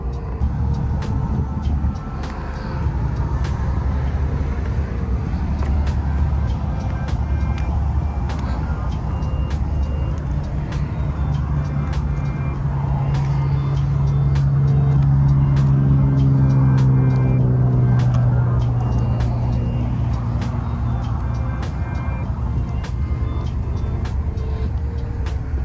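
A Ford Mustang Mach-E GT electric car on the road, a steady low whir and tyre rumble with a rising tonal motor whine in the middle, and light clicks scattered throughout.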